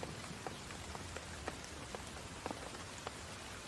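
Rain falls steadily on a surface, producing a soft, continuous hiss scattered with light tapping drops. The sound is fairly faint and even throughout, with no speech.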